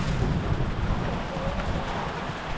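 Rain and gusting wind roar across a farm during an August hailstorm, a dense, steady wash of noise buffeting the microphone close by.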